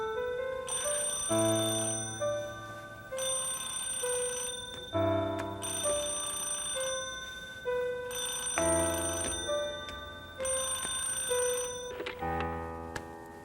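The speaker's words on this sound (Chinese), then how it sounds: "去接电话啊！" A telephone rings with a loud, melodic electronic tune repeated in regular bursts separated by short pauses, sounding alone with no voices.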